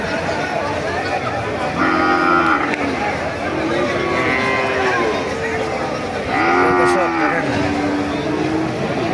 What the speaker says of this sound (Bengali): কত সুন্দর সুন্দর গরু আপনার দেখাইলাম